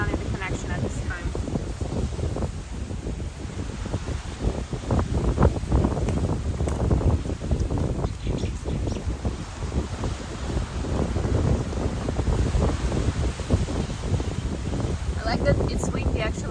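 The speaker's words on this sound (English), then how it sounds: "That it's windy actually" Strong wind buffets the microphone outdoors in continuous rough gusts, with rustling and faint voices beneath the roar.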